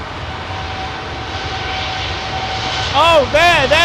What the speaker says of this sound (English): I'll let this Dreamliner go through the shot.